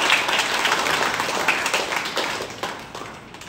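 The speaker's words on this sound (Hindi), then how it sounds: "और मैं जिनका नाम नहीं ले पा रहा हूँ इन सब के लिए एक बार जोरदार ताली।" A room full of people claps in a dense, steady round of applause, loud and continuous before thinning and tapering off near the end.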